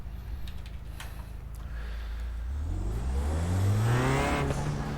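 Race car engine revving on throttle at Sonoma Raceway, a TCR touring car, its pitch climbing steadily as it accelerates, loud and close with no talk.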